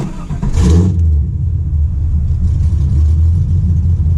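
A 1996 Impala SS with an LS1 engine swap idles with a steady low rumble after a brief louder burst at the start, running evenly on its own without voices, after an IAC valve fix.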